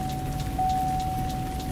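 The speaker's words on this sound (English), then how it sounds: "We got a little bit of rain" Steady rain patters on surfaces at a ranch, a dense, even hiss of drops with a faint sustained tone running through it and no talk.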